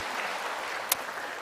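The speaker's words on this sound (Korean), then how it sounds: "우리 주님께 다시 한번 영광의 박수 올려드립니다" A church congregation applauds during a Korean worship service, a steady, moderately distant patter of many hands with one sharper click partway through.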